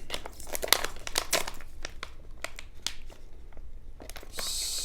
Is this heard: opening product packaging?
yes